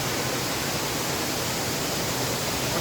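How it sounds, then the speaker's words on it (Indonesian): A waterfall in a forest pours continuously, a dense, steady rushing hiss that fills the whole moment without any break, loud and close, with no voices. "suasana di air terjun"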